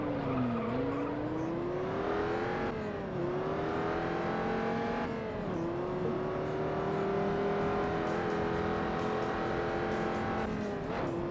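Car engine droning and tires skidding in the street racing game Juiced: a steady revving engine note that dips and climbs with gear changes, joined by long tire squeals through corners, close and continuous with no talk.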